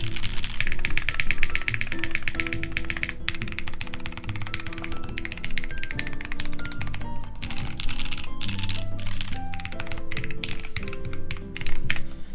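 Fast, steady typing on a very light mechanical keyboard with Cherry switches, a dense run of close, crisp keystrokes heard alone without talking.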